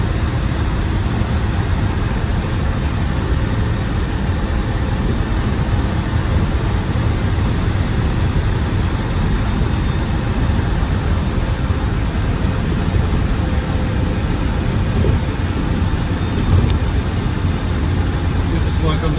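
Land Rover Defender 110 TD5 double cab diesel engine running while driving, a steady continuous low rumble with road noise, close and constant throughout with no breaks.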